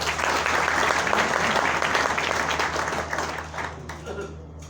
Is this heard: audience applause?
yes